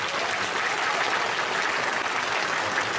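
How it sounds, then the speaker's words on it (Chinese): Steady, dense audience applause fills a hall at a concert marking the 70th anniversary of the war victory, greeting a young child performer; the clapping is loud and continuous throughout with no pauses. "俾啲掌声俾嘉欣小朋友"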